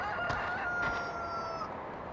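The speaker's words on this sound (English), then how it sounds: "another cockerel, yes." A cockerel crows one long, drawn-out call, loud and fairly close, over a steady background of outdoor farm noise.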